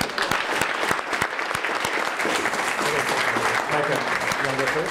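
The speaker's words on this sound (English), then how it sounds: "One more round of applause for Karen." Sustained applause fills a room at an annual meeting and awards breakfast, steady and fairly loud, with scattered claps standing out and a voice speaking under it toward the end.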